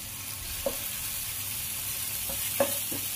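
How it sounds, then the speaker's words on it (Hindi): Chopped tomato sprinkled with rock salt cooks in a pan, giving a close, steady sizzling hiss. Two or three faint clicks of a utensil break through it, and no one speaks. "तो हम टमाटर को यहाँ पे अच्छे से पका लेंगे।"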